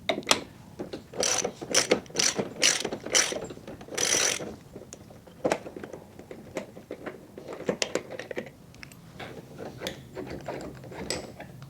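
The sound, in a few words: 22mm socket ratchet removing go kart stub axle nut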